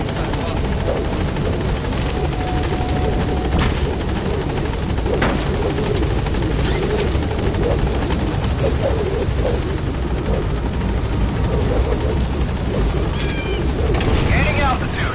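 A helicopter in Metal Gear Solid V: The Phantom Pain holds at a landing zone, its loud constant rotor and engine drone running the whole time, while radio-style voices talk over it and short clicks and effects break in.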